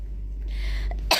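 A single sharp cough from someone speaking at a press gathering, one short burst at the very end after a low steady hum.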